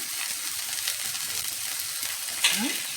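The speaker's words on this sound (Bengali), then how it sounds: "আমি মশলাটা কষিয়ে নেব" Ground cumin, coriander and turmeric with ginger paste sizzle steadily in a hot pan, a continuous close frying hiss with a brief scrape of stirring near the end, no talking.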